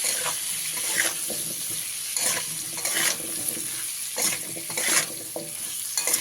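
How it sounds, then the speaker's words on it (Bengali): Vegetables fry in a pan with salt and turmeric powder while a spoon stirs them, bringing a steady sizzle and repeated scraping strokes at close range with no voices. "এবারে আমি এখানে দিয়ে দিচ্ছি লবণ পরিমাণ মতন হলুদ গুঁড়ো দিচ্ছি পরিমাণ মতন খুব ভালো করে মিশিয়ে নিতে হবে"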